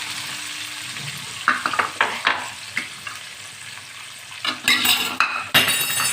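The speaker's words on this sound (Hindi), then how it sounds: "अब हम इसको अच्छी तरीके से भूनेंगे ताकि इसका कच्चापन, प्याज का और लहसुन अदरक का कच्चापन ख़त्म हो जाए।" Ground onion with ginger garlic paste frying in a pan: a continuous close sizzle broken by a series of scraping stirs and metallic clinks of a utensil against the pan.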